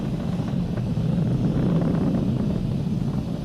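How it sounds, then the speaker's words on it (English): A SpaceX Falcon 9 rocket in supersonic flight gives a steady, broad rumbling roar that holds constant and dominates, heavy in the low end with a windy, hissing wash over it. "Vehicle is supersonic. We've exceeded Mach 1 on the Falcon 9."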